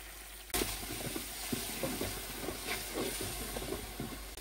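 Ginger garlic paste hits hot oil with onions for chicken bhuna khichuri, bursting into a loud, steady sizzle after a brief quiet start, with scattered stirring clicks and scrapes through the frying.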